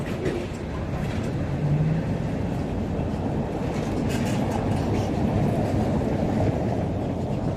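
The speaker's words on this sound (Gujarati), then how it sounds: "આવી લોકલ ટ્રેન તો ક્યારેય નથી જોયો મસ્ત છે બેલ મારે એ પછી એ પછી જ હાલે" A local tram in Prague rolls along its tracks, a steady close rumble of wheels and motor that stays constant throughout, with no distinct bell standing out.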